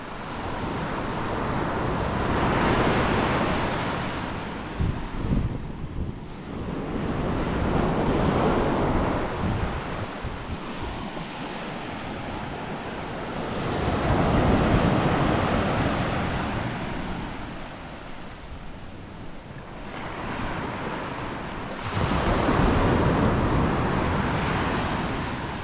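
Surf rolling onto a Koh Lanta beach in low season with strong wind, broad washes of waves swelling and fading every few seconds under constant wind buffeting the microphone.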